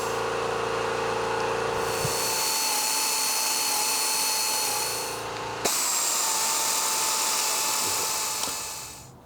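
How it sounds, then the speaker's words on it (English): A half-inch deep impact wrench spins rear differential cover bolts out in a garage, with two loud sustained whirring bursts split by a brief pause and a sharp click, ending as the tool winds down. "I'm going to take my 1/2-inch deep impact here, and we'll speed this guy up"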